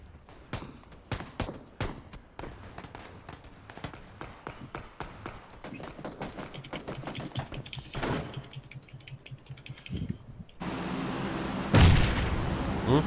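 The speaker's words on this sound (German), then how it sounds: "Granate ging auch gerade spät los." Gunfire and a grenade blast in PLAYERUNKNOWN'S BATTLEGROUNDS: a run of sharp, irregular shots and impacts builds up, then a louder broadband explosion rumbles near the end, with no talk.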